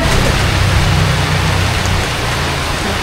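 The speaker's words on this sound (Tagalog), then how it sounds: "Ang lakas ng ulan." Heavy rain pours down steadily and loudly for the whole stretch, a dense, even roar of water with a deep rumbling undertone and no voices.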